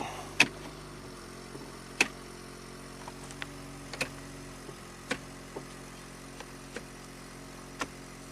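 Sharp, faint clicks from a faulty power seat in a flood-damaged Acura that clicks without moving, about ten spaced irregularly over several seconds against a quiet, low hum.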